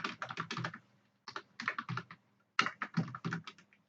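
Fingers type on a computer keyboard in three short bursts of quick, crisp clicking separated by brief pauses, close and clear with no speech.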